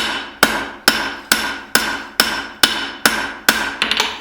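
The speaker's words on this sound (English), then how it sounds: "So when I go ahead and start to forge in these bevels," A hammer forges bevels into a spring steel blacksmith's knife, nine sharp ringing metallic blows in an even rhythm, close and loud, ending with a quick cluster of lighter taps.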